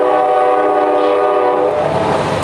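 A train passes close and loud, its horn blaring a sustained, harmonic-rich blast over the rumble of the rail cars throughout.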